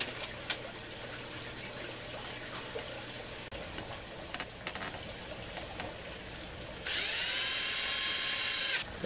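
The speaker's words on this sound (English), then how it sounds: "this will allow me to keep the holes drilled uniformly" A power drill bores holes in an aquaponics grow tube, with brief scattered bursts and clicks before a loud, steady high whir near the end.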